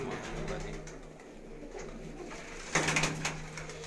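Low cooing of black-faced Sialkoti pigeons on a rooftop continues softly in the background, then a sudden brief burst of fluttering or clatter rises near the end.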